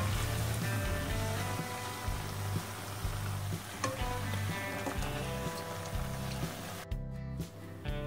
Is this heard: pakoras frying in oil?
yes